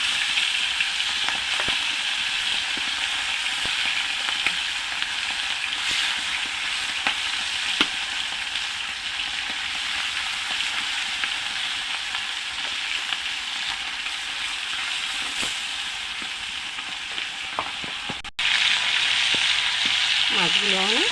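Tilapia fish pieces fry in hot oil with a steady, dense sizzle throughout, marked by scattered small pops and occasional utensil clicks, a brief scrape near the end, and no speech.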